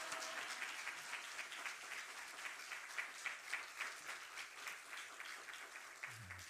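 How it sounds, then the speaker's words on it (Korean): A church congregation at a Wednesday men's fellowship service claps to welcome the pastor, a soft, distant applause with a loose rhythmic pulse that continues steadily before fading. "목사님 나오실 때 우리 할렐루야로 박수로 환영하겠습니다."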